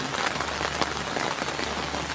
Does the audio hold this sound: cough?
no